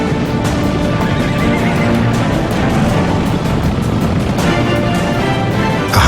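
Wild Mustang horses whinny and neigh over a dense, loud bed of hoof clip-clop and rumbling movement, a steady herd sound without voices.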